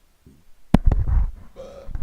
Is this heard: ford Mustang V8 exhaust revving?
no